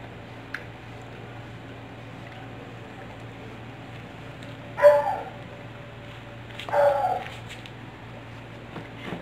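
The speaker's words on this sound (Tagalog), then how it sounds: "Nag-ingay na naman yung aso sa kabila." A neighbour's dog next door barks twice, a few seconds apart, fairly distant over a steady low background hum.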